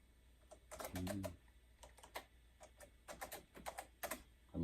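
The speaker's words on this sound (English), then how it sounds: "I'm hitting some extra keys here by accident." Quiet clicks and clatters of keys on a Radio Shack Tandy computer keyboard come in short irregular bursts, close by and soft.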